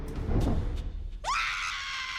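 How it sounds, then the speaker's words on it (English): A sharp, high scream rises suddenly and holds, loud and close, following a stretch of low rumbling in an animated short about a meat puppet. "Fucking screaming."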